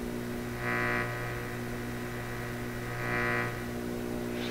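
A steady low electrical hum with faint harmonic buzz from a Clairtone console stereo radio during an IF bandwidth sweep, swelling twice into a brief brighter whooshing tone as the sweep edges are detected, then fading back into the drone.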